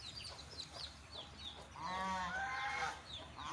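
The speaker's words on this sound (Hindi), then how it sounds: "ये हैवी बफ का है, इनकी कुछ मुर्गियाँ यहाँ फिर रही हैं" Heavy Buff hens roaming a poultry farm cluck and call in short bursts, with a louder, steadier run of harmonic squawking in the middle, fairly close over a busy farmyard background.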